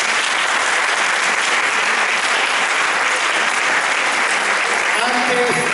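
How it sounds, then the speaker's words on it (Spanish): An audience in a synagogue gathering claps in a steady, sustained round of applause, many hands together at an even level throughout, with faint voices mixed underneath. "Sin más, aplauso de nuevo para el vecino."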